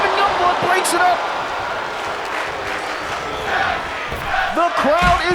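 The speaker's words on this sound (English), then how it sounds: "The crowd is loving this. As you hear them chanting tag team wrestling" A wrestling crowd roars and chants in an arena during a tag team match, a dense, noisy wall of voices with rhythmic shouts and a few sharp slams near the end.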